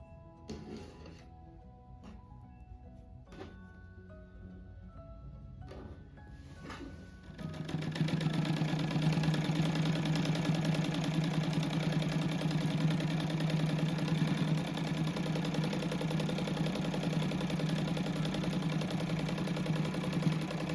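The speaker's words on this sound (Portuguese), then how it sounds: "Vou fazer 2 costuras, ó, encosta o pé da máquina na primeira costura e só vai seguindo ali." A sewing machine stitches a rug, starting after a few light clicks and handling noises, then running steadily and loudly at an even speed for the rest of the stretch.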